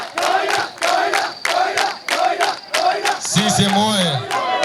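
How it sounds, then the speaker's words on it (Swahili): A crowd greets a visiting official with rhythmic group chanting and cheering, repeated loud vocal bursts in a steady beat with a rising shout near the end. "mpigeni makofi ndugu zangu"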